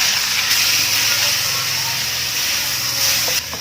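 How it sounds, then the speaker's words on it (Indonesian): Grated radish stir-frying with salt, seasoning and small dried shrimp in a pan for Chinese New Year fried radish cake, giving a steady close broadband sizzle and hiss throughout, with a low hum beneath. "Ini terus saja ditumis begini hingga lobaknya layu."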